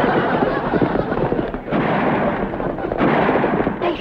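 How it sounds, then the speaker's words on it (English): A chase scene from a TV sitcom episode carries dense, rapid gunfire that crackles almost continuously and close, with brief dips in the barrage. "They shooting at us."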